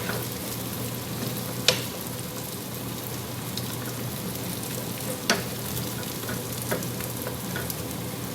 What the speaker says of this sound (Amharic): እንደምታዩት እየተጠበሰልኝ ያለው በቆንጆ ሁኔታ ነው ያለው።